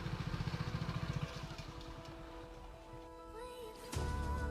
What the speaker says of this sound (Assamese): মোৰ বাইকখন শৰ্মাজীয়ে চলাই আছে।